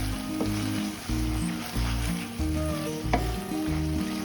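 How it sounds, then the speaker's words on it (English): Sliced carrots and onions sizzle and fry steadily in a pan, with a few stirring scrapes cutting through the continuous crackle. "And then I'm adding some sliced carrots and more onions to it."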